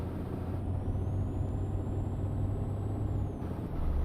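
A heavy truck in a driving game with pro mods hisses its air brakes, a sustained high hiss lasting about three seconds over a constant low engine rumble that keeps running underneath.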